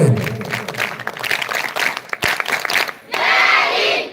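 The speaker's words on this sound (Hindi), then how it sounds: "जोरदार तालियों की अपेक्षा है।" Loud crowd clapping at a college NSS camp event in Thakurtola, steady and close, dropping briefly before a fresh burst of enthusiastic applause swells back.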